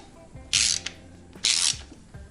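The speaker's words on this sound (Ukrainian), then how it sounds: "Затягуємо міцно. І якщо тріскачка не зламалася з першого разу" A ratchet wrench tightens a stubborn old nut, with two short, loud raspy ratcheting bursts close by and quiet pauses between them.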